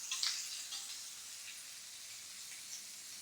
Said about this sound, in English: Cut into 3x3 pieces and begin the sear.